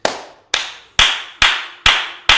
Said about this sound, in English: So can we please get a round